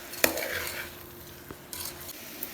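A spoon clanks sharply against the pot and then scrapes a few times as mutton curry with raw mango and tamarind leaves is stirred, over a soft, low sizzle.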